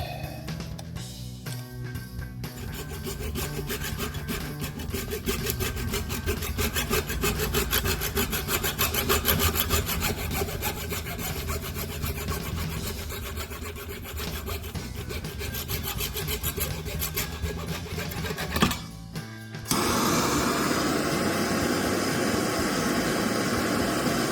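Hand saw cutting off excess wood on a rebuilt center console, a continuous rhythmic back-and-forth rasping stroke for about twenty seconds, then a brief pause before a steady whirring tool noise takes over.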